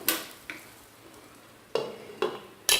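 Cumin seeds and three whole dried red chilies dropped into leftover hot oil in a pan for a chana dal tempering; sharp bursts of sizzle and clinks separated by quieter frying, close and without talk.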